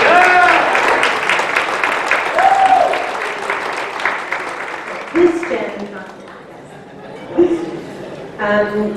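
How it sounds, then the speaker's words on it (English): Audience applause at a nonprofit's annual general meeting, a steady wash of clapping from a crowd that fades over several seconds, with a voice speaking over it and light chuckles. "A round of applause for Allison."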